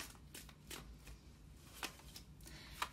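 Tarot cards being shuffled and handled on a table, a string of soft papery riffles and flicks with a couple of sharper snaps, close and fairly quiet.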